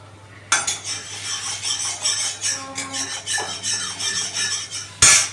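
Potatoes are rubbed against a grater in a home kitchen, a run of rhythmic rasping strokes at close range with light metallic scrapes, and no voices.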